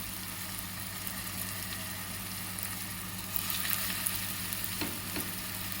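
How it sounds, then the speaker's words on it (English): Meatballs searing in hot oil in a pan, a steady close sizzle and crackle throughout with a low hum underneath and a brief louder burst of spitting partway through. "So we're going to leave these here to sear up."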